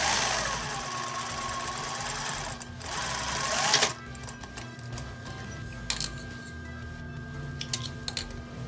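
Sewing machine stitching a dart on a shirt-style blouse, running a steady mechanical whir that drops to a lighter hum, with a few clicks and taps near the end; no talking.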